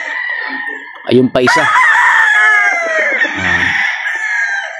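A golden boy straight comb gamefowl rooster crows loudly and close by, one long drawn-out cock-a-doodle-doo after a sharp cluck, with a brief spoken comment layered partway through.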